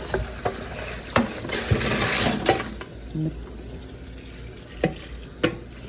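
Cloudy water left from cleaning jewelry is poured out, a soft splashing trickle with scattered sharp clinks and knocks, fairly faint and close, with no talking.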